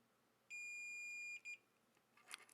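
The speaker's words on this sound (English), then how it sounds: "You guys hear the beeping?" A steady high electronic beep from robot electronics being wired holds for nearly a second, then a short second beep follows; clear and close in an otherwise quiet room.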